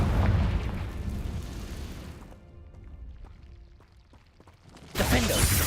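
Confringo fire spell blasts in Hogwarts Legacy, a loud booming burst for about two seconds, dropping to a quieter stretch of scattered crackles and debris, then another loud blast erupts at the end.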